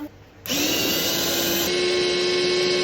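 A kitchen blender runs steadily, chopping apples for pancake batter, starting abruptly after a brief quiet moment and then holding a loud, continuous whirring drone with a slight pitch shift partway through.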